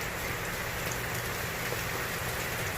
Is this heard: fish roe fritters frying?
no